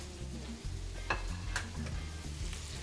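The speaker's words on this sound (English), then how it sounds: "So we're going to cook this steak for about 3 to 4 minutes each side" A ribeye steak sizzles steadily in a hot pan, a quiet continuous crackle of frying fat with a few sharper spits and pops and no voices over it.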